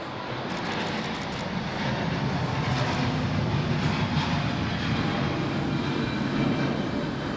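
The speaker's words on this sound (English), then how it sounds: "Here we go, the Delta 40 now, the A350. It's rolling 3-4 left." A Delta Airbus A350 rolling for takeoff on runway 34 left at Sydney Airport, a broad, steady jet-engine roar that swells and holds from a distance, with faint rattling clicks early on.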